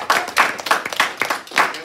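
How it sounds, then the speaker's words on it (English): A school class clapping in a high school classroom, a brief burst of quick irregular hand claps from a small group, close and fairly loud, with no talking over it. "Let's give them all a round of applause"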